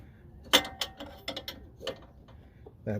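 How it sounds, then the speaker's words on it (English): Metal ratcheting and clicking of a wrench tightening the sway bar link bolt on a 2005 Toyota Prius, using an 18mm wrench, heard as a few sharp close clicks and scrapes spread over a quiet moment. "moving on to the sway bar link, that's what I'm tightening up next"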